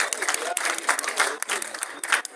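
An audience claps during a talk about husbands and wives, producing loud, dense applause that runs continuously for a couple of seconds with uneven swells.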